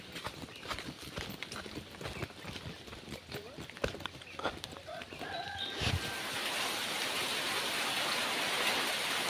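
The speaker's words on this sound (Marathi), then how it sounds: "पाऊस पडतोय" Rain falls over a Konkan village, beginning as scattered drips and light clatter among faint background sounds, then building into a steady, even wash of downpour for the last few seconds.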